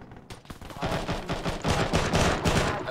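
Rapid, loud gunfire in a combat engagement, a fast rhythmic string of close shots that builds and keeps going with barely a pause, dominating the scene with no audible voices.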